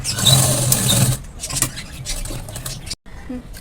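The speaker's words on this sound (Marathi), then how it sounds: "शिलाई इथपर्यंत डबल शिलाई करून घ्या जेणेकरून शिलाई तुमची पक्की होईल" A sewing machine runs in a steady mechanical whir while stitching a Punjabi dress, stopping briefly, with someone speaking over it.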